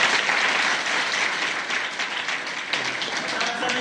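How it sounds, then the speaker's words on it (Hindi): An audience applauds a high school board exam topper at a school gathering, a dense sustained burst of clapping close by that holds steady for several seconds with no speech over it. "एक बार फिर से ताली मारो।"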